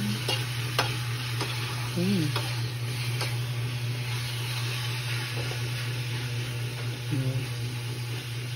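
Food fries and browns in a pan, a steady close sizzle with occasional stirring clicks under a constant low hum.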